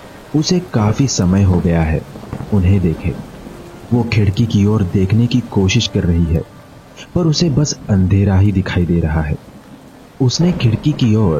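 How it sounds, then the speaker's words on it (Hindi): Rain and thunder outside a house at night rumble steadily in the background beneath continuous narration. "बाहर बारिश और तेज कड़कड़ाती बिजलियों की आवाज सुनाई दे रही है।"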